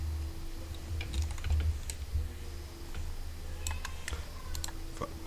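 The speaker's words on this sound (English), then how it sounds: "he just starts clicking on my mouse" A cat paws at a computer mouse, making a run of light, quick clicks and taps that grow busier toward the end over a low steady hum, with no talking.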